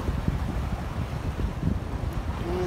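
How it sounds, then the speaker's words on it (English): Wind buffets the microphone at coastal jetties, a steady rough rush with water washing beneath it throughout. "Sorry about the wind, guys, if you guys can't hear me. The wind and the water."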